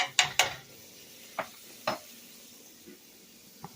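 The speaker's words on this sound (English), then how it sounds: "And we're going to let these onions brown up." Onions browning in a pan for dirty rice, heard as a few distinct scraping stirs of a utensil against the pan over a faint sizzle, quiet and spaced out, no talk.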